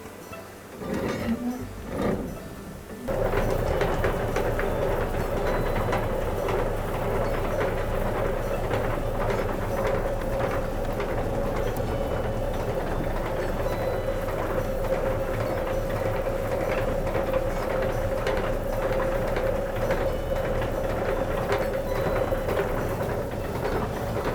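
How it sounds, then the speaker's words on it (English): After a few brief knocks, a stone mill grinding corn into cornmeal starts a steady rumbling, grinding mechanical drone that runs continuously and evenly, close by, with a faint underlying hum. "that stone right there is going to start turning and start making some noise"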